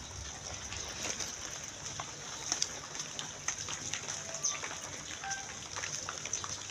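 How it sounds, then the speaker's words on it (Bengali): Light drizzle falls under an overcast sky, a faint, even patter of scattered drops spread over a soft hiss, quiet and continuous with no one speaking. "রাতের থেকে গুড়ি গুড়ি বৃষ্টি, এখন পর্যন্ত বৃষ্টি কমে নাই"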